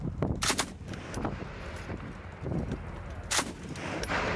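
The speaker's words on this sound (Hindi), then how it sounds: "लगातार फायरिंग हो रही है, गोलियां चल रही हैं" Continuous gunfire during fighting in Panjshir, Afghanistan, heard as a dense, steady crackle of shots with a few louder bursts standing out at a distance.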